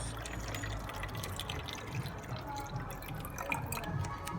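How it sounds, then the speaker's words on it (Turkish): Half a litre of water poured from a container into a bottle outdoors, a steady soft trickling and dripping stream running throughout at moderate level, with light wind in the background. "bu yarım litre suyumuzu bu şekilde şişemize dolduruyoruz"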